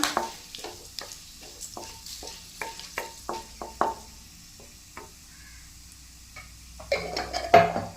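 Whole cumin and dried red chillies are stirred in a hot pan, with quiet sizzling and scattered scraping taps from the utensil. The activity is close and intermittent, and a louder clatter of stirring comes near the end.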